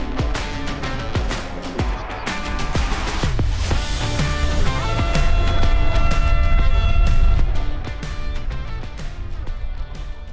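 A long, loud half-time siren sounds across a sports ground at an Australian football nines grand final in Darwin, over crowd noise and scattered clapping, holding steady tones for several seconds.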